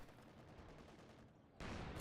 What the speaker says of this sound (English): we have all kinds of explosions happening on this grove